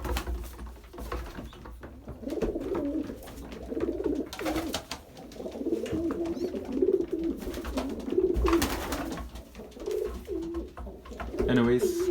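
Pigeons cooing inside a loft housing young birds around eighteen days old, a steady low rolling coo repeated throughout, with occasional wing flutters and brief rustling noises.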